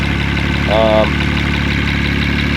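A DGM motor idles with a steady, mid-pitched rumble, and a faint ticking injector noise runs through it at a constant level. A brief whine rises for a moment partway through, with no talk over it.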